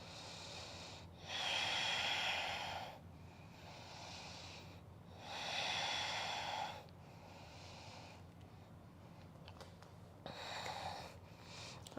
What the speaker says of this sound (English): We'll take 3 more breaths.